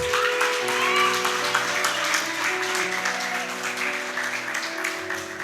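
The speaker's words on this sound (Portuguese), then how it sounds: "Aplaude o nome do Senhor Jesus." Church congregation applause fills the space, steady clapping over sustained musical tones from an organ or keyboard, with some voices mixed in.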